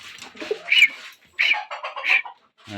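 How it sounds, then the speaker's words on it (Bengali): Chickens and pigeons in a farm shed make a few close, soft bursts of cooing and clucking calls, spaced by short silences. "দেখো তো দোস্ত, মুরগিগুলো কত সুন্দর।"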